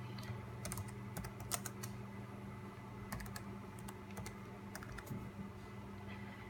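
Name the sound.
typing a command on a computer keyboard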